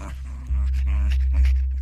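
Small dog growling in a flurry of low rumbles while eating treats, recorded as a radio drama effect, close and steady with brief whimpering tones.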